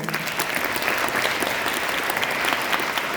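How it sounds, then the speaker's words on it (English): An audience at an alumni panel forum gives a dense, steady round of applause, loud and continuous throughout with no talking. "Let's give a round of applause."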